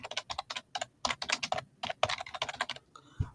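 Rapid typing on a computer keyboard while renaming a folder, a quick run of close, crisp key clicks with short pauses and a slightly heavier keystroke at the end.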